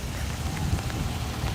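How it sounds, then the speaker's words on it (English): Steady rain pours down during an outdoor walk, a dense, even hiss of drops striking the ground and surfaces, close and continuous with no voices. "I just want to challenge myself to walk in the rain"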